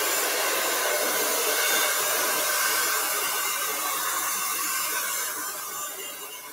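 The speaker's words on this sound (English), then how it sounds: "Let me jump in here and use my blow dryer. Again, I'm going to dry this background." A blow dryer runs in one steady, loud, breathy roar, drying the painted background of an acrylic lovebirds painting, and fades slightly near the end; nobody speaks.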